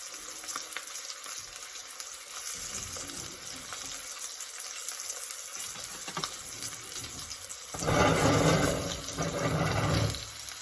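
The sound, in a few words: steak searing in a pan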